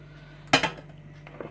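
Two quick clinks of dishes and cutlery knock together while a vinaigrette salad is mixed, then a softer clatter a moment later in an otherwise quiet room.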